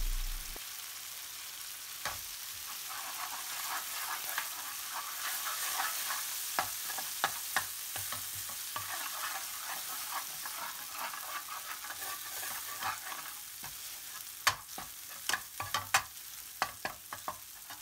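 Coconut powder, almond powder and sugar being stirred while cooking in a pan, a steady soft sizzle under repeated scraping strokes, with sharper spoon clicks and scrapes clustering toward the end, no talking.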